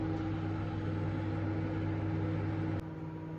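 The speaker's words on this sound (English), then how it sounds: "place it in the oven for 1 minute" A microwave oven hums steadily while baking a vanilla funfetti cake, a constant low drone with a faint click near the end as the tone drops slightly.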